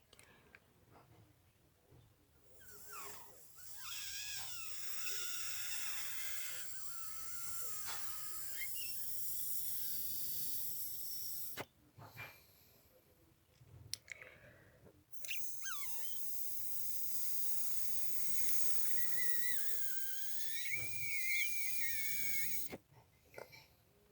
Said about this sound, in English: we're going to blow through the small end and it's going to come out the larger end